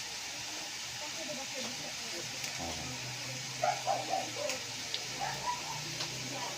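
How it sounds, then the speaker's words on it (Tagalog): Winged beans cooking in coconut milk give off a steady, fairly loud hiss of sizzling, with a scattering of sharper pops and crackles toward the end. "Naririnig niyo po ba yun? Sagitsit na."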